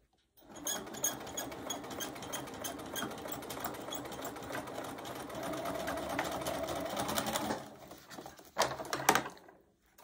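A sewing machine runs steadily at close range for several seconds, stitching a folded fabric edge on a beginner's mug rug. Its rapid needle clatter holds an even pace, then stops and gives a couple of short restarting bursts.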